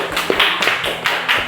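Several sharp hand claps ring out in quick succession during a classroom lesson, spaced irregularly over a second and a half with no talking.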